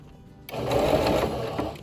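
A sewing machine stitches a seam with a longer stitch while making a cleat bag, starting abruptly after a quiet moment and running steadily and close up to the end.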